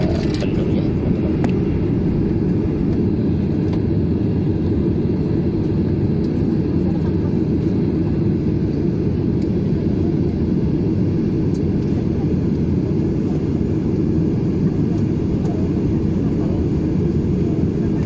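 An airplane taxiing at Djalaluddin airport in Gorontalo under overcast skies, heard from inside as a steady, loud low rumble and engine drone that holds unchanged from start to finish.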